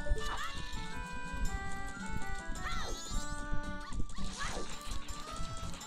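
A small dog barks in the Majora's Mask Randomizer video game, short yelps rising over busy game music and sound effects while a player talks in Spanish.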